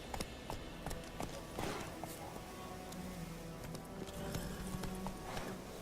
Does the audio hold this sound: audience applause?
no